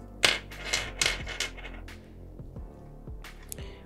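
Paracord fid tool clicking and scraping while a mammoth knot bracelet is braided, a few sharp close taps and rattles in quick bursts, then quieter knocks.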